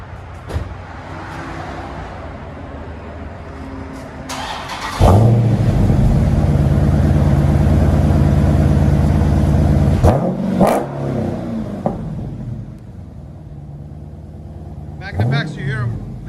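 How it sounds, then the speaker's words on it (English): A Dodge Charger with a 6.4L HEMI V8 and Magnaflow exhaust idles quietly, then a loud, deep rev swells for several seconds, followed by shorter blips; people talk over the low idle between revs. "Magnaflow, you hear them, they breathe when you give them gas, but when it's sitting still, it's nice and tamed and quiet."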